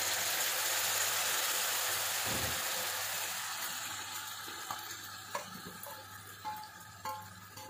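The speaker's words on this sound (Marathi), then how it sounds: "तर या स्टेजला आपण याच्यामध्ये हे धुतलेले तांदूळ घालूयात" Washed rice tipped into hot masala oil for masale bhat and stirred, a loud steady sizzle that gradually fades, with a few spoon scrapes and knocks toward the end.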